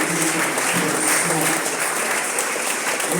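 A church congregation applauds to acclaim God during a service, a dense, steady wash of clapping with voices mixed in.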